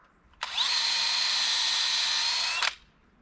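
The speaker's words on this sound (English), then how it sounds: "Whoa, what a drill." A power drill whirs at high speed for about two seconds boring into a maple tree for sap, starting and stopping abruptly, loud and close with a steady whine.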